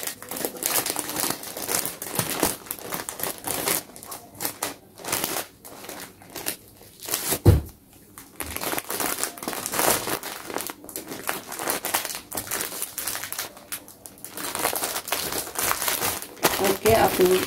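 Plastic packaging crinkles and rustles continuously as a scrunchie order is packed by hand, up close and fairly soft, with someone talking over much of it.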